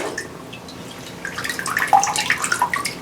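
Water dripping and trickling from a homemade papermaking frame with mesh screen as it is slowly lifted out of a tub of pulp, scattered close drips building over a few seconds, no talk.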